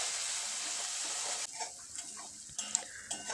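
Spice masala of turmeric, cumin, coriander and red chilli powder with a splash of water sautéing in oil for rohu fish curry; steady loud sizzle for about a second and a half, then softer bubbling with scattered stirring scrapes and taps.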